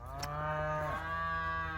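A single long, low moo from a cull cow among cows with calves at foot, close and clear, sliding lower in pitch near the end.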